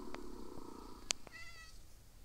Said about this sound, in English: There's cats here.